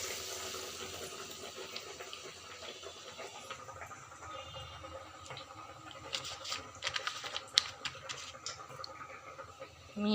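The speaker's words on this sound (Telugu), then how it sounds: "ప్రెస్ చేసుకొని ఇప్పుడు ఆయిల్లో వేసుకుందాం." Chana dal vadas fry in hot oil with a steady crackling sizzle that grows busier and louder toward the end, close by.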